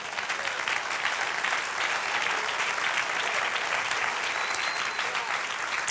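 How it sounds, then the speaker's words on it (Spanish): A church congregation claps continuously during a sermon, a steady roar of applause that holds evenly throughout without voices over it. "Dale un aplauso, ese lo merece."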